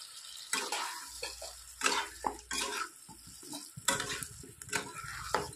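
Onions fry in a pan while a utensil stirs them, making repeated scraping strokes over a crackling sizzle, with occasional light clinks against the metal and no voices.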